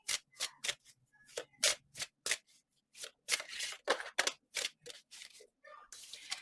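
Tarot cards being shuffled and drawn, heard as a run of crisp, close slaps and snaps that come in a quick, uneven rhythm.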